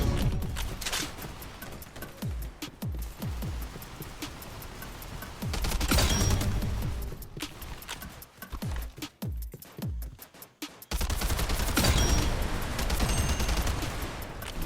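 Gunfire from a modified weapon in Weird Gun Game, loud rapid bursts of shots in several long strings, separated by short pauses and one near-silent gap.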